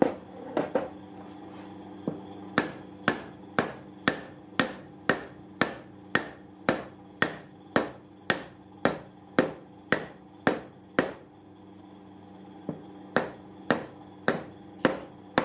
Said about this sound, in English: The driven hub continues to be tapped by the hide mallet until it feels and sounds to be solid.